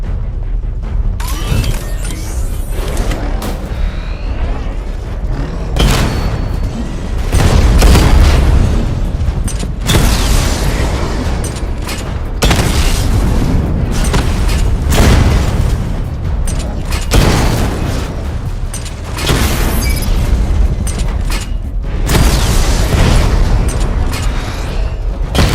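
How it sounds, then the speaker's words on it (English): A missile barrage erupts in the Batman Arkham Knight game, loud repeated booming explosions in clustered bursts with brief gaps between volleys, sustained and intense throughout. "Charge up missile barrage to level 2 and destroy 4 active targets to complete diagnostic test."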